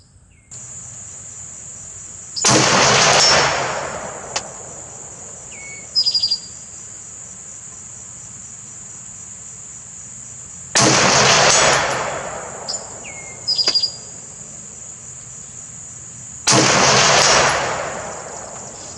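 An MSAR STG-556 AR-pattern rifle fires .223/5.56 rounds outdoors: three loud, widely spaced single shots, each with a long decaying tail, over steady insect chirring.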